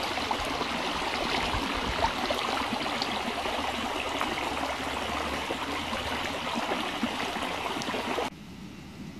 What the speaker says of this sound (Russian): И это не ручей, это вот вода с гор так скатывается по дороге.